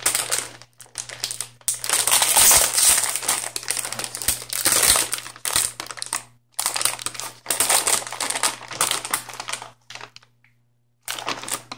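Bag of Takis Nitro spicy rolled tortilla chips being opened and handled, loud close crinkling of the plastic packet in several bursts with brief pauses between them, with no speech.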